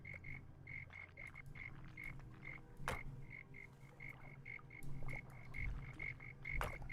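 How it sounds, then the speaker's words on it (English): A chorus of frogs croaking in a relaxing village-building game, many quick repeated croaks in a steady pulsing rhythm, moderately quiet over a low ambient bed with occasional soft clicks. "Oh my god, you can hear frogs."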